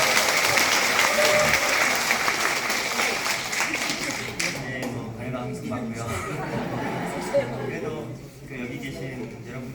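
Audience applause at a Korean public forum on revitalizing underground shopping arcades, dense clapping filling the hall for about four seconds before thinning and giving way to a speaker's voice.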